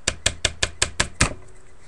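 A homemade rubber band hornet shooter snaps seven times in a quick, steady rhythm, each crack sharp and close, then silence.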